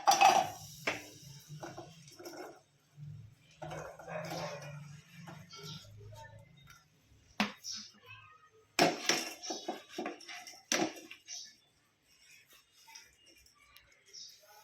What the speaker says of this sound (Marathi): आता हे जे गुळ आहे हे पूर्ण टाकून घेते ह्याच्यामध्ये